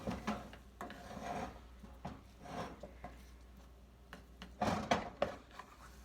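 A wooden spatula stirs bananas through brown sugar in a pan, producing soft repeated rubbing and scraping strokes with small knocks, fairly quiet and close.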